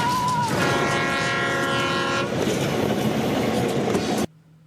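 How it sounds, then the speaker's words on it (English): A fast train passes close by with a long, loud horn blast over a rushing, rumbling roar, and the sound then cuts off abruptly. "That train really caught up fast."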